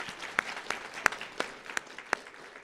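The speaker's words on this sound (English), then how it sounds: "Let's give them a round of applause for that too." Scattered clapping rises at a student design awards ceremony, a handful of sharp, distinct claps over a soft, thin applause bed, as if from a small audience.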